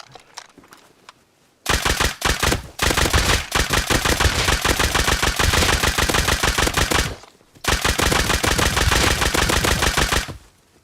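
A nail gun firing in the survival game Rust: long, rapid bursts of sharp clattering shots, loud and close, with a brief pause between two extended strings.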